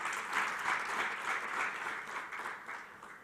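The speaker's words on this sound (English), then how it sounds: "Please give them a big round of applause." Audience applause at an awards ceremony for an entrepreneurship challenge, a moderately quiet, even wash of many hands clapping that tapers slightly toward the end.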